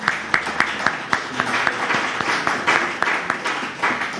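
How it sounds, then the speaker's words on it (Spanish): A small church congregation claps in a loose, uneven burst of birthday applause for a few seconds during a Sunday service, close by, with some murmuring underneath. "un aplauso para ellos"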